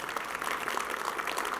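A morning audience at the Williamson County Outlook session, a county civic gathering, applauds in a brief, steady patter of many hands clapping together.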